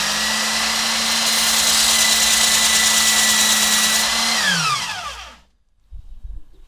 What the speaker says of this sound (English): So we finally sanded down the pad. We took off like a millimeter with the belt sander.